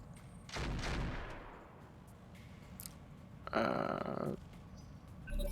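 Weapon fire in the mech combat game RogueTech: a heavy blast near the start that trails off, then a second loud burst of fire a few seconds later, with mechanical clicks and rumble between.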